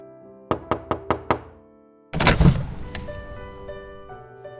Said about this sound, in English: firmly knocked against the hard wood of the door.